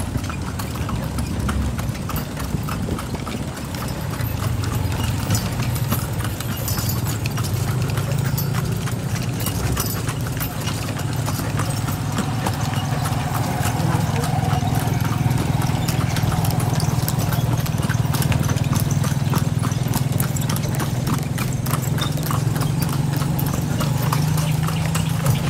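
A horse-drawn kalesa rolls along Calle Crisologo, its hooves clip-clopping in a steady, close rhythm over a low idling engine rumble and street background.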